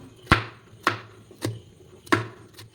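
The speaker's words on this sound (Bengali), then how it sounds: "এখন আমি ক্যাপসিকাম কেটে নিচ্ছি" Kitchen knife chopping capsicum into small pieces on a cutting board: four or five sharp, separate chops at an uneven, unhurried pace, close and clear with no talk.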